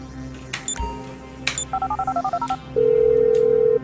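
Phone dialing in GTA 5: a run of about a dozen short, evenly spaced keypad tones followed by a long steady ring tone, with a few brief electronic chirps before, all loud and without talk.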